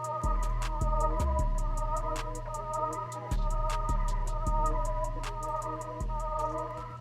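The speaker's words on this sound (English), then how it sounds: "So with the effects, the flutes now sound like this." Dark ambient flute sample processed with bandpass EQ and Portal effects using a game preset, heard as sustained layered tones over a repeating deep bass pulse and steady high ticks, loud and continuous with no voices.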